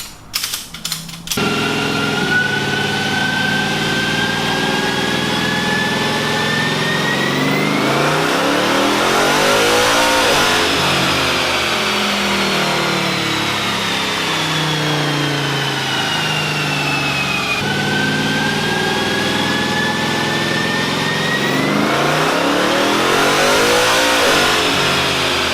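Loud Ram Hemi V8 with a makeshift modified intake, revving hard in repeated long sweeps that climb toward about 7,000 rpm, falling back and rising again, with no talk over it.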